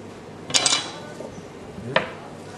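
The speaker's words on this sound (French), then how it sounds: "Hop, et vous tranchez." A knife slicing through a roast beef, with two sharp metallic scrapes and clicks of the blade against the board, separated by a quiet gap.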